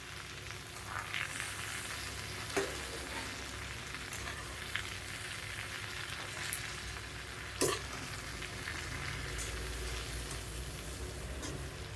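Vegetable mixture for jackfruit biryani sizzling steadily in a hot pan while being stirred, with a few scraping clicks of the spoon against the metal and no talking.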